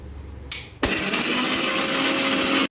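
A mixer grinder crushing chutney ingredients with green or red chillies and no water added starts with a short whir, then roars up to a loud, steady grinding whine that holds until the end.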